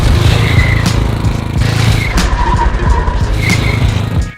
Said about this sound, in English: It's actually another power brake with a slide on the end.